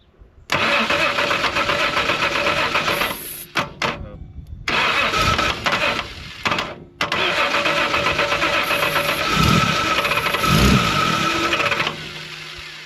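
A Reliant Scimitar GTE engine cranks, briefly stumbles, then catches and runs steadily at a rough, busy idle, loud and close throughout.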